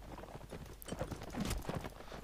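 Horse hooves clip-clopping in the Mount and Blade Warband video game, a run of quick uneven hoof strikes at close to middling distance, fairly loud, with no talk over them.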